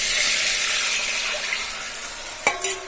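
Biryani rice being washed by hand in a pot of water, with steady sloshing and swishing close up, then a brief sharper clatter near the end; no talking.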